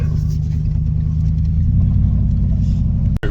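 A home-built Big Block Ford engine runs on a dyno with a loud, steady low rumble and dense firing pulses, briefly cutting out just before the end.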